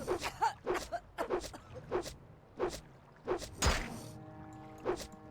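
Repeated whooshing swings with dull thwacks in a loose rhythm, roughly a dozen strikes, fairly close and moderately loud, with no talking.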